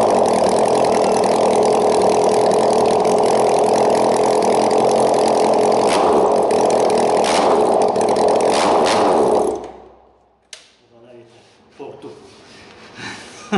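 A Honda CBR650F motorcycle engine with an Akrapovic titanium full-system racing exhaust runs loud and steady for about nine seconds, then cuts off, followed by quieter talk.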